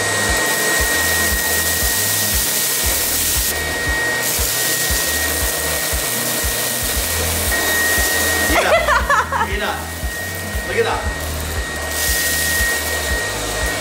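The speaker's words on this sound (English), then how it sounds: "the L10 Pro Series, which is a vacuum that literally saves so much time out of my day" An L10 Pro Series vacuum cleaner runs with a steady, loud whoosh as it sucks rice off the floor, with a burst of rattling grains clattering through it midway.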